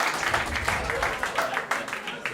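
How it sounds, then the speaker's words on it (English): Comedy club audience in New York applauding, a dense patter of many hands clapping at moderate distance throughout the short stretch, with voices mixed in. "Interesting that was the applause break."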